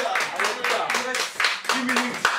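Church congregation clapping in steady bursts during worship, with voices and crowd noise mixed through the claps, fairly close and continuous.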